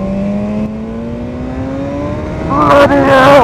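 A 2017 BMW S1000R fitted with an Akrapovic exhaust with the EU4 baffle removed holds a rising idle drone, then is blipped into sharp, loud revs near the end.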